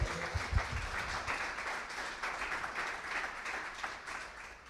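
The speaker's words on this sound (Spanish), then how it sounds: "Voy a darle un aplauso al Señor por la obra de Jesucristo en su vida." A church congregation applauds during a sermon, with sustained, moderately loud clapping from many hands across a room and a few louder thumps near the start.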